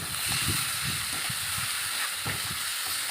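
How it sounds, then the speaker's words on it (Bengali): Mutton frying with spice paste in a little oil, a steady broad hiss and sizzle with soft low thumps of stirring, close by and without talk. "এই দেখুন এইভাবে আমি ভেজে নিচ্ছি"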